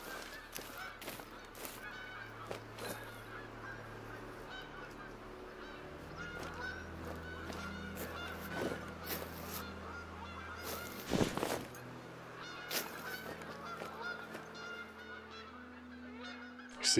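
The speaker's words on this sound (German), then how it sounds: "Das wäre echt mal interessant, ob wir diese Gänse hier zum Landen bewegen können." Geese in the hunting game theHunter: Call of the Wild honk repeatedly near a lake, a steady chorus of overlapping calls with a few louder bursts, heard without speech.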